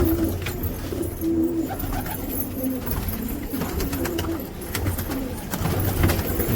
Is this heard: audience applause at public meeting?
no